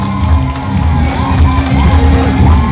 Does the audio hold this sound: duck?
no